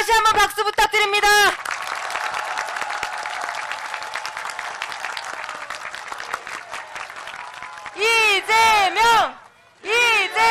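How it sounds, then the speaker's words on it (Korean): Crowd at a political rally for presidential candidate Lee Jae-myung breaks into loud, sustained applause mixed with cheering, framed by a host's amplified voice at the start and again near the end. "대통령 후보 이재명 후보에게 다시 한번 박수 부탁드립니다"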